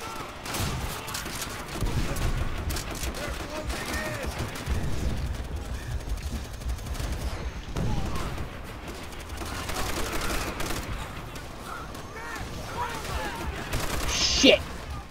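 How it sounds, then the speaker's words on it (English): Trench gun shotgun blasts ring out amid a chaotic battle in Call of Duty: World at War, with repeated gunfire and explosions over continuous game noise while a voice speaks intermittently. "Do enjoy the trench gun though."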